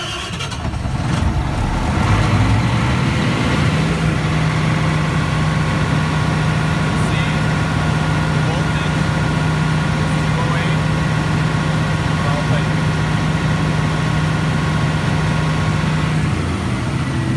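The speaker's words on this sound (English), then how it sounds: "and we'll start the engine." Diesel genset engine starts and settles into a steady, droning idle that runs loud and continuous at close range throughout.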